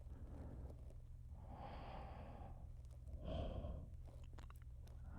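A voice imitates snoring with quiet, drawn-out breaths close to the microphone, two slow heavier inhales swelling and fading in a soft whisper-level ASMR setting.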